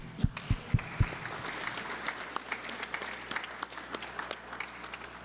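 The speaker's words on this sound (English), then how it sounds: "I want to ask this body a round of applause for him." Applause from a legislative chamber floor, opening with a few sharp individual claps and then settling into steady, sustained clapping throughout.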